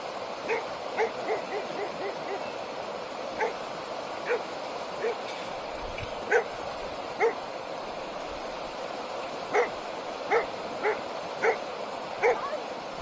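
Dogs near a backwater on the River Nene bark at a distance in short, regularly spaced single woofs over a steady outdoor hiss, repeating roughly every second or so throughout.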